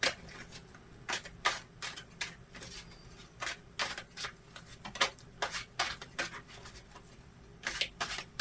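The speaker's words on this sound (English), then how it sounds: "I need to shuffle my cards a little bit first" Tarot cards riffled and snapped in quick repeated bursts, close up and crisp, with short pauses between shuffles and no talking.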